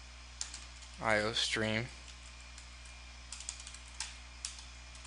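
Code being typed on a computer keyboard, sparse faint key clicks scattered around a brief spoken phrase in a quiet room with steady hum.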